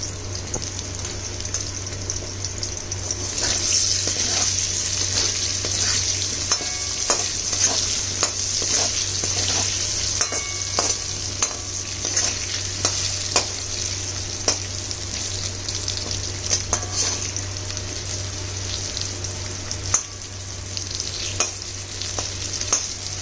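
Potato pieces sautéing in a pan with a little salt and turmeric: a continuous loud sizzle with frequent scraping and clinking strokes of a spatula stirring, and a low steady hum underneath.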